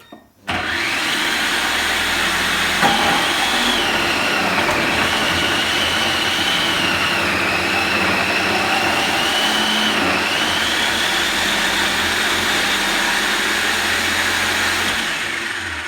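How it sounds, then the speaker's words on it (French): A Cooking Chef food processor with its fine grater disc in the multifunction bowl shreds Comté cheese at maximum speed, a loud steady motor whine that starts abruptly after a brief pause and runs without a break. "J'ai mis la râpe numéro 2, la râpe fine, directement dans le bol multifonction. Hop, vitesse maximum."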